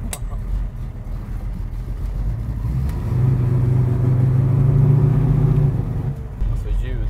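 A Ford car engine runs with a steady low rumble that builds slightly in the middle, heard from close by with a person talking over it.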